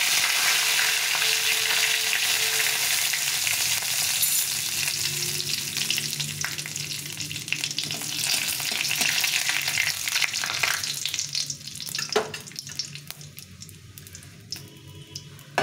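Two dry red chillies, half a spoon of panch phoron and two bay leaves sizzle steadily in hot oil in a pan, a close, continuous crackling hiss with occasional stirring scrapes and no voices.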